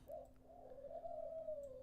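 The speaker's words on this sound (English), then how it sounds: "That stupid dove is chirping or cooing or whatever they do." A dove coos in one sustained, faint call that slowly falls in pitch over a steady low hum, with no voices.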